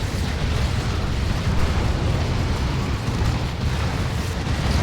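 Artillery shells and tank fire from a Dawn of War 2 Warhammer 40k battle boom and rumble continuously in a dense, loud, low wash of overlapping explosions.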